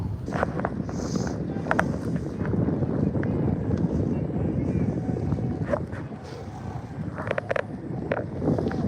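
Strong outdoor wind buffets a microphone on a wet, blustery day, making a continuous loud rushing roar with scattered sharp bumps and crackles throughout.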